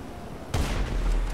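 A single loud gunshot fired in the video game GTA Online, a sharp, heavy boom followed by a rumbling tail, standing alone with no talk over it.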